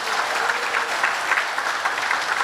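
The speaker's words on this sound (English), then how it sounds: "can we have a round of applause again for Mr." An audience at a public education meeting on the Caribbean Court of Justice versus the Privy Council claps loudly and continuously, with dense, even applause from the full room throughout.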